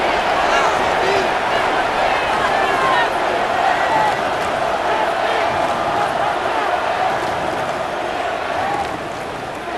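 Dense, steady stadium crowd roar from a Madden NFL 26 football game between the Chargers and Patriots before a two-point conversion, loud and continuous throughout with a voice talking over it.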